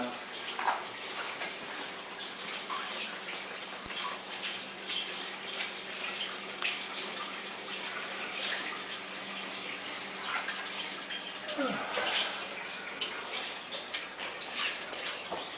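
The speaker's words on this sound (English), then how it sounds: "And this I rinse last in cold water." Cold tap water runs steadily in a farm kitchen sink while pie-making gear is rinsed, a broad, continuous hiss at moderate level with faint splashes and occasional voices in the background.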